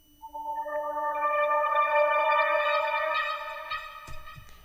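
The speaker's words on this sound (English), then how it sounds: "And then I added this kind of swelling texture, which I just chopped from the synth" A swelling synth texture rises as a rich chord of stacked tones, gradually thickening and climbing in brightness, holds steady, then ends with a sudden clicky chop.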